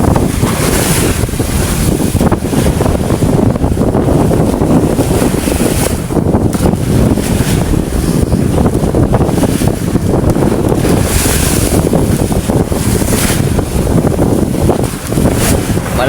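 Strong sea waves and gusting wind buffet a boat during a long sea crossing, a loud continuous roar of surf and wind noise against the microphone, with no talk.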